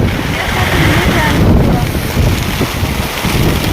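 Strong wind roars and buffets close to the microphone with a continuous rushing noise during a rainstorm, like a storm blowing through.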